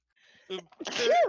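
A single sharp human sneeze bursting out after a brief breathy intake, close and loud, ending in a short voiced trailing sound.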